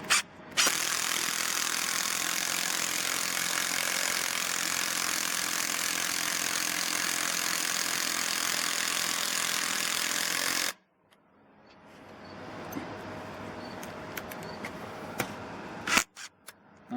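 A 12V cordless impact driver drives a 3-inch screw with a loud, steady, close hammering rattle that lasts about ten seconds. It stops abruptly, followed by quieter handling noises and a few light clicks.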